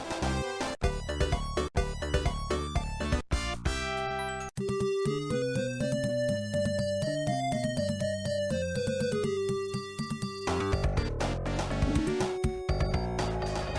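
Synthesized Sonic 2 Oil Ocean level music, with a bright electronic melody over a bouncy bassline and steady percussion, continuous and fairly loud throughout.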